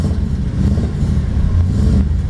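A 1938 Buick Special's Nailhead 401 cubic inch V8 rumbles steadily and loudly up close, a deep continuous idle with slight swells, no voices over it.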